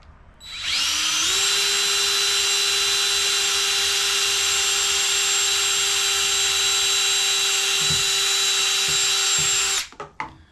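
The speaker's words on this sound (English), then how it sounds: "And we're going to drill a hole." A power drill whirs up and runs at a steady high pitch for about nine seconds, loud and close, then winds down with a few clicks.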